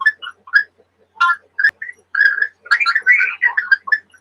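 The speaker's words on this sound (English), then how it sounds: "It turns my words into a bird chirping." A voice app effect turns spoken words into bird chirping, giving bursts of whistly tweets and trills in short phrases that grow busier toward the end, close and fairly loud.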